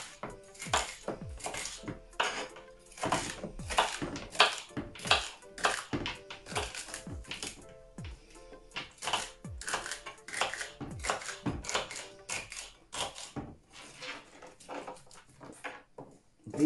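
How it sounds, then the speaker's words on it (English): A knife chops turmeric root and celery stalks on a cutting board for green juice, a long run of close, sharp, irregular knocks and thuds with brief pauses, no talking. "now I'm just chopping them up"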